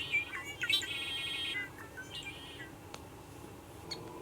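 Outdoors, a red-winged blackbird sings one clear, trilling phrase in the first second and a half, followed by fainter scattered chirps and a couple of small clicks against quiet ambient noise.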